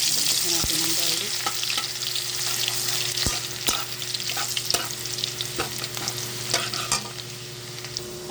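Garlic frying in a pan in a home kitchen, a steady close sizzle with scattered scraping stirs and taps throughout.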